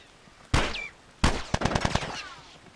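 Gunshots in The Last of Us video game, close and loud: two single cracks followed by a rapid burst of about six shots, with no talk.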